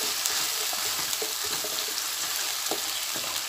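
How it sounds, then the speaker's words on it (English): Ginger garlic paste fries in a pan before prawns go in, giving a steady bright sizzle with small crackling pops and a few stirring scrapes, close and continuous with no talking. "You can add 1 tablespoon of ginger garlic paste. Fry it well."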